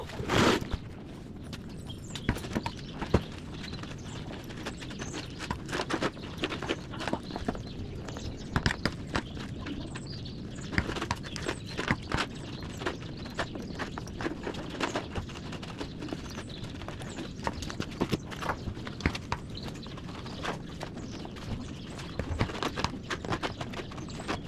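A horse's hooves clip-clop steadily throughout, close and fairly loud, an even walking rhythm against a busy outdoor background during a riding clinic with a professional rider.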